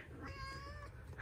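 Kittens meow in a short, clear cry that rises and falls, close by and fairly loud, while a low rumble of handling sounds sits underneath.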